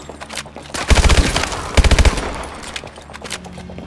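Two loud, close bursts of automatic machine-gun fire in Call of Duty: Advanced Warfare, each a quick string of sharp shots, separated by a short pause and trailed by fainter distant combat noise.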